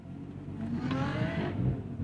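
A 2024 Lotus Emira sports car engine revs up in sport mode with a deep, throaty rumble and rising whine, building loud and close for about two seconds.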